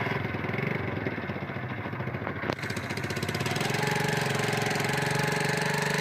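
An old motorcycle engine runs to drive a makeshift contraption, a steady, loud, rough mechanical chugging with a rapid knocking rhythm throughout.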